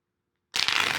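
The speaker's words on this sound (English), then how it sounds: "This is how I shuffled the card just now." After a half second of silence, tarot cards riffle together in a quick, close rustling burst that runs to the end.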